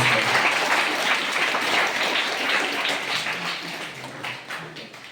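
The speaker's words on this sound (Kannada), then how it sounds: "ನಿಮ್ಮೆಲ್ಲರ ಚಪ್ಪಾಳೆ ಮೂಲಕ ಅವರಿಗೆ ಸ್ವಾಗತ" An audience at a welcoming ceremony bursts into sustained applause for arriving guests, many hands clapping together, loud at first and slowly thinning out.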